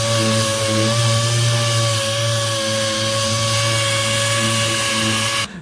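A power sander runs on a plywood fish tank. It gives a steady, loud, high whine with a constant hum and no breaks until it cuts off abruptly at the end.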